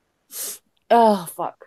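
A single short sneeze, loud and close, is followed at once by a spoken exclamation.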